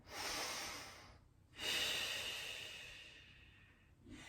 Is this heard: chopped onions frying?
no